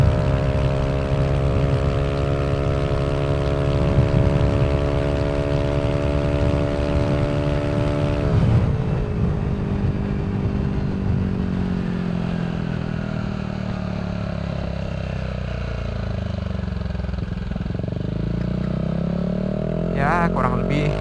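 Motorcycle with a Villan SR1 aftermarket exhaust held at high revs with the variable valve actuation engaged, a loud steady droning roar that drops in pitch as the throttle eases, with a voice talking over it.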